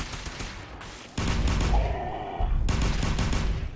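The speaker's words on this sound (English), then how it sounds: "Where am I getting shot from?" Bursts of rapid gunfire erupt in Fallout 4, loud and dense, with a short pause between volleys and a faint tonal whine under the shooting.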